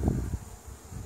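Honey bees buzzing near a hive entrance feeder, a soft, steady low drone in the near field that is strongest at the start, with no voices.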